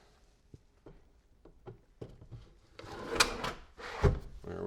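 A wooden drawer slides into a drill press work center in a small shop, light scraping and knocks building to a rolling slide and a firm thump near the end.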